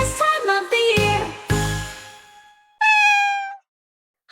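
A cartoon kitten meows several times in quick succession, high-pitched and close, with a bright tinkling chime following after a short pause.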